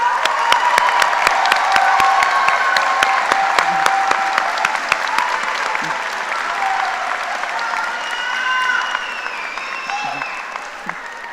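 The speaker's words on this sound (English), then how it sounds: "would you please stand and give a round of applause for your family, loved ones, and friends" A large crowd at a veterinary college graduation ceremony applauds steadily with scattered cheers, whoops and shouting voices mixed in, sustained throughout.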